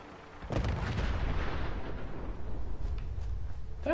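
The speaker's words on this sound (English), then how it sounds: "That was a bloody homing missile." A homing missile explodes in the post-apocalyptic game Fallout 4, a sudden loud blast followed by a sustained rumbling roar of debris and fire that lingers for several seconds, with a few sharp crackles near the end.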